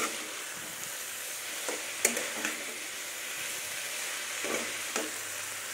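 Ground coriander and cumin fry in a pan for a mixed vegetable curry, giving a steady close sizzle broken by occasional scraping stirs, with no talk.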